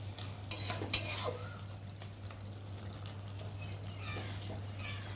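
A spoon stirs a small-fish curry in a pan over a gas flame, giving soft scraping and light metallic clinks against a steady low hum, with faint simmering underneath and two sharper knocks near the start.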